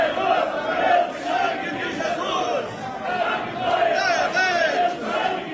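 A large crowd of church assembly members cheers and shouts in a loud, continuous roar, with applause and rising waves of voices, heard through the playback of a recorded event.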